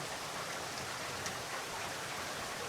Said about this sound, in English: look at this beautiful background with actual rain and stuff.